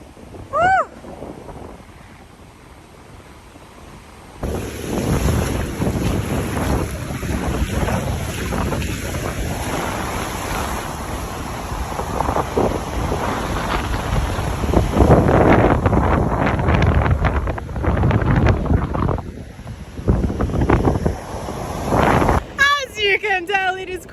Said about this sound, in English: I really hope you guys can hear me despite the wind.